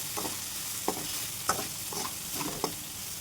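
Okra frying and being stirred in a pan, a steady soft sizzle with several sharp scraping clicks of the spatula at irregular intervals, close and moderately loud, no voices.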